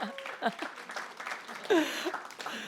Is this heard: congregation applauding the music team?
yes